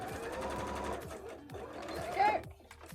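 A home sewing machine runs a line of stitching along a seam while a handmade bra is sewn, whirring steadily with rhythmic needle thumps that fade in and out as someone talks over it.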